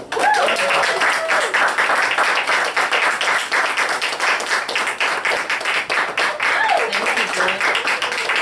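An audience at a poetry reading welcomes the poet Natasha Dennerstein with dense, sustained applause that fills the room, steady and loud throughout, with a couple of faint vocal whoops mixed in.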